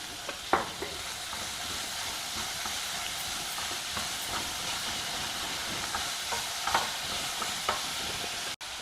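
Kabuli chana sundal made with white chickpeas is stirred in a pan, giving a steady gentle sizzle with scattered scrapes and clacks from the spoon, close and moderately quiet, with no one talking.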